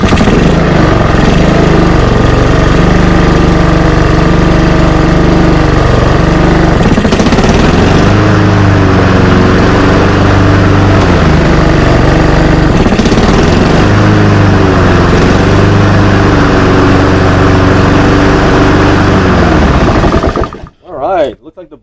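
A Honda lawn mower engine, just repaired after a stalling problem, runs loud and close for about twenty seconds, a steady droning rattle with throttle swells, then cuts out abruptly.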